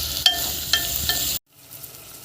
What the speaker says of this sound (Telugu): కొత్తిమీర బాగా వేగాలి